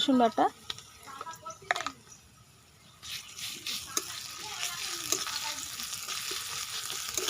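Ginger-garlic paste hits frying onions in a pan for ghugni chaat, sizzling and hissing under stirring and scraping, with brief talk and clinks at the start before the frying settles into a steady sizzle.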